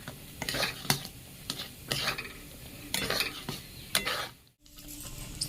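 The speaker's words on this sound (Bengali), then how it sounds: "কিশমিশ, নারকেল কুড়া সব দিয়ে ভালো করে ঘেঁটে দেবো" Raisins and grated coconut being mixed by hand in a bowl for a Bengali palm pitha. Repeated rough stirring and scraping sounds come in uneven bursts, close up.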